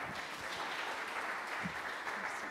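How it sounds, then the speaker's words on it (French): Faint, steady applause from an audience at a French doctoral-students' event, a dense patter of many hands clapping continuously for a couple of seconds. "Merci pour les applaudissements."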